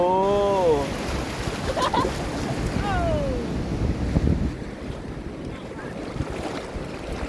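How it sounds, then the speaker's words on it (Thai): Big ocean waves and strong wind at Laem Charoen beach in Rayong: a continuous roaring surf and gusty wind buffet the microphone, with a brief whistle-like tone near the start. "โอ้โหคลื่นเยอะวันนี้ลมแรงนะ วันนี้คลื่นใหญ่เลย"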